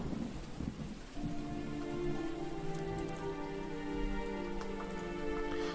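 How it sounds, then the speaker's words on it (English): Heavy downpour of rain hissing steadily and densely close by, with faint rumbling low underneath and no voices. "Rain had turned from drizzle to a downpour."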